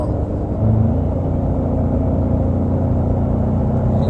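A 2019 Ford Ranger pulling a trailer gives a steady, loud engine drone with low rumble, rising slightly as it kicks down a gear and accelerates, with no talk over it.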